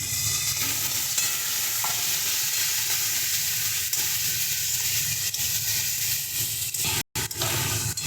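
Spice paste sizzles steadily in a pan as a little water is added, a continuous close hiss with faint stirring and no talking.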